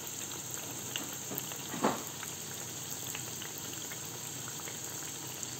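Oil sizzles in a pan while corn masa quesadillas and chicken empanadas cook: a soft, continuous crackling hiss with one brief louder pop, no voices.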